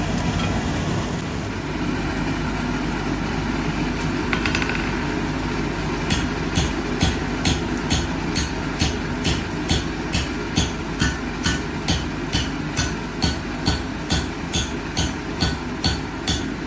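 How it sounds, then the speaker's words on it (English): A blacksmith hammers a hot steel bar on an anvil to upset it, striking evenly at roughly two blows per second after a quieter stretch of shop noise. The sharp metallic strikes are close and loud, with no talking. "I'm going to be hitting it with the hammer instead of using its own weight."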